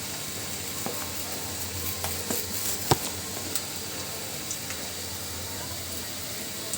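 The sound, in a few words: spice paste frying in hot oil in a pan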